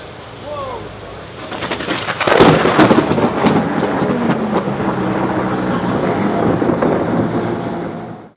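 Heavy rain pours steadily at an outdoor race meeting while a loud crack of thunder bursts overhead and rolls on, the downpour continuing after it fades.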